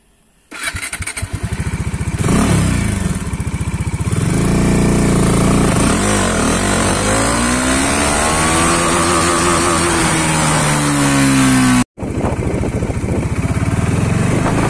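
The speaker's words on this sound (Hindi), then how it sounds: "आपको दिखाएंगे फर्स्ट गियर चैलेंज कि मतलब फर्स्ट गियर में आपका घुसता कितना है।" A Bajaj Dominar 400cc motorcycle starts up loud and close, then revs hard in first gear, the engine note climbing steadily in pitch for about ten seconds before a brief cut and a further surge.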